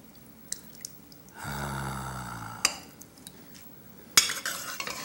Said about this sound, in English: I got to stir that in a minute after I get all this